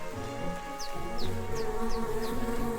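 Bees buzzing in the video game Secrets of Grindea, a soft continuous drone with repeated short high chirps from the game mixed into the background.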